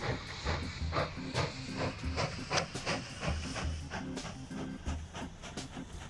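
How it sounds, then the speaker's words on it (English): A train rolls along in the Planet Coaster video game, giving a quiet, steady rhythmic clatter of regular clicks and hissing pulses, repeated about twice a second over a soft background. "This is a really cool looking train."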